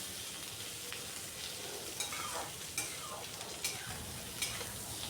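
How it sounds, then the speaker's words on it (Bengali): Tomatoes fry lightly with ginger, onion and garlic in a pan. A soft sizzle runs underneath as a spatula scrapes and taps the pan several times at irregular intervals, fairly quiet and without talk. "টমেটোগুলো একটু হালকা ভেজে নিচ্ছি"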